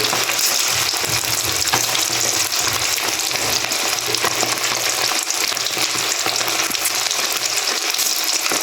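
Continuous loud sizzling and crackling of chicken frying in hot oil for chicken chilli, steady throughout with occasional stirring sounds underneath.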